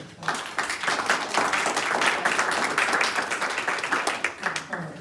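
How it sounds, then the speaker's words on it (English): An audience at a senior center press conference gives a round of applause for area seniors, a steady run of moderate clapping from many hands that lasts throughout and tapers slightly at the end. "let's have a little round of applause for our seniors"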